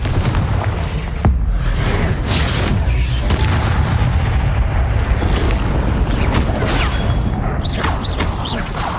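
Confringo fire-blast spells explode during a Hogwarts Legacy video game duel: loud, dense booms and crashes pile up continuously amid constant battle din, with no clear gap between blasts.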